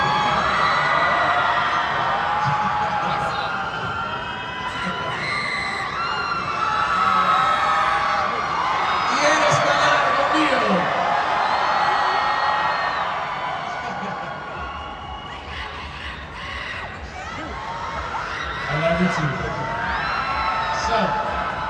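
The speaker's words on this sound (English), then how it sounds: "there's many beautiful women screaming now" Women scream and cheer in a large crowd at an F1 movie fan event, a sustained wash of high-pitched shrieks and whoops that rises and falls, with talk underneath.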